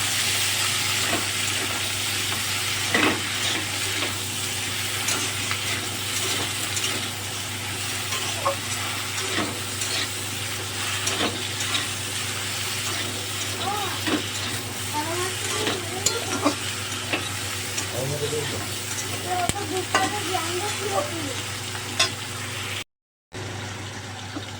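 Cut okra and potatoes frying in an open pan of oil, a steady close sizzle with recurring spatula stirring and scraping for over twenty seconds before a sudden brief cut to silence near the end, without talk.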